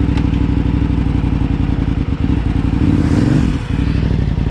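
A KTM rally motorcycle on an enduro course runs with a failing clutch, its engine droning loud and close in a steady rough rumble, with a brief dip and clattering surge midway.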